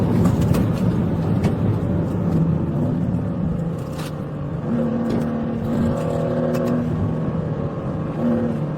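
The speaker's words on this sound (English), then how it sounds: "The Kia accelerated, weaving aggressively through traffic and making sudden lane changes." A black Kia car accelerates hard during a high-speed police chase, its engine droning steadily with rising tones over continuous road and traffic rumble, loud and close throughout.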